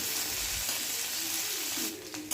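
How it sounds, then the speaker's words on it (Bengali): Village-style crab meat frying in hot oil in a pan while a spatula stirs and spreads it, giving a continuous close sizzle with scraping, clinking stir sounds toward the end and no voices. "সমস্ত শাঁসগুলো দিয়ে দেওয়ার পর খুন্তি দিয়ে একবার নাড়াচাড়া করে নিয়ে আরেকবার ভালো করে মেলে দিচ্ছি আর তারপর এগুলোকে ভেজে নিচ্ছি"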